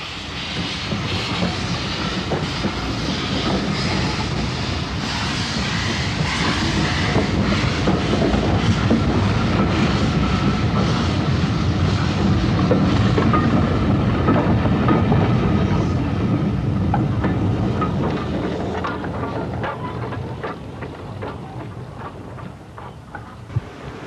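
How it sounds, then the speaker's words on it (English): A steam train of 1964 on the branch line to Barmouth, near Pwllheli, rumbles past in a long, steady roar that swells to a peak and then gradually fades as it moves away. "Many of the trains to Barmouth were still in the hands of steam."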